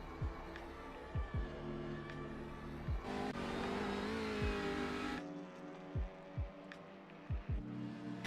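Touring race cars in the iRacing game at Oulton Park, a steady engine hum and throb with several quick passing thumps, a louder surge midway, under faint background commentary.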